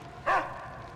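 A single sharp bark from a dog in the Mad Max video game, short and close, over a low steady background rumble.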